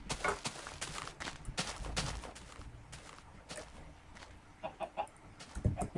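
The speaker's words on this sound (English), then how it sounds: "It's a chicken." A chicken in the Minecraft video game clucks in scattered short bursts, mixed with soft footstep-like thumps, close and fairly clear with uneven pauses between calls.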